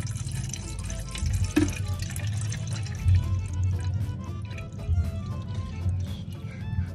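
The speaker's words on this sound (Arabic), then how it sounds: "الحله حلوه الحله دي، البي له بقى فيها ميه." Water running into a cooking pot from a tap, a steady splashing pour with scattered drips and a brief clink of the pot partway through, close and fairly loud.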